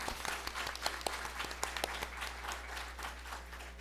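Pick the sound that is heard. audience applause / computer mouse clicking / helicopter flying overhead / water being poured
audience applause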